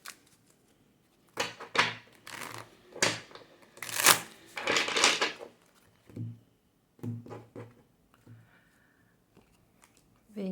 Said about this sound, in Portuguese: vamos tirar mais 4 cartas